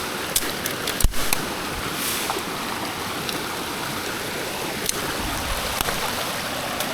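A stream and falls along a forest hiking trail in Real, Quezon rush steadily, a broad continuous wash of flowing water close by, with a few faint knocks and footsteps on top.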